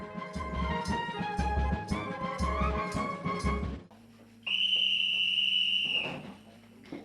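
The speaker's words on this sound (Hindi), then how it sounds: "ठीक 10 बजे की सीटी ऐलान करती है सोने के वक्त का" Army camp whistle signalling bedtime: a single sustained, shrill blast lasting over a second, coming in after a stretch of rhythmic background music.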